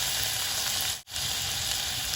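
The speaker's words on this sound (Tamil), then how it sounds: "இப்போ நம்ம இந்த சால்னாவுக்கு தேவையான அளவு உப்பு இந்த தக்காளி கூட சேர்த்து தக்காளியை நல்லா வதக்கி எடுத்துக்கலாங்க" Chopped tomato with ginger garlic paste and salt frying in a pan for a hotel-style salna gives a steady, even sizzle throughout, cut by one brief drop near the middle.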